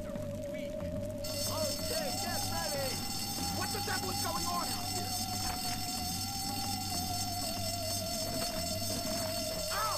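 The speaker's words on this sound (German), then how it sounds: "Alarm!" A steady, sustained alarm tone wails continuously for the full length inside the video game Bully, sitting over a dense bed of game ambience and murmuring background voices.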